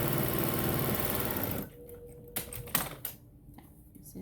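A sewing machine top stitches a bag lining with a fast, steady mechanical whir for about a second and a half, then stops, leaving a few soft clicks and handling noises.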